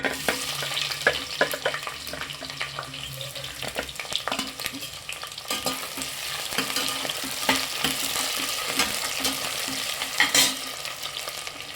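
Fried onions are stirred into a sizzling masala for meal maker biryani, with steady scraping and frying crackle, close and fairly quiet, without any voices.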